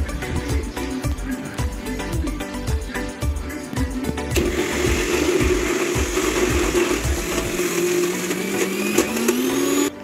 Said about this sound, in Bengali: তার বদলে আমি একটা মিক্সিতে ছানাটাকে নিয়ে নিলাম।